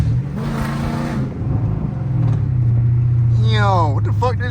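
A Jeep with a 5.7 engine and SRT hood revs hard while driving in the rain, a loud low engine drone building and holding with a rising whine, as someone talks excitedly over it.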